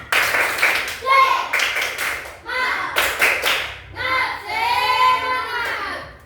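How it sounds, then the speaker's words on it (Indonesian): Schoolchildren in a classroom perform a rhythmic spirit clap, bursts of patterned group clapping alternating with chanted voices, loud and close, with kids calling out between the claps. "Tepuk semangat."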